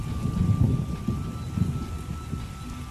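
Steady rain with low rumbling thunder in The Witcher video game, a continuous ambient wash with soft swells of deeper rumble, no voices.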